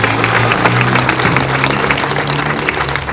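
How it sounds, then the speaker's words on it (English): Sustained applause from an audience at a municipal band concert, steady and dense clapping filling the whole stretch, with a band tone held underneath. "So let's give her and Annika a big round of applause for their help."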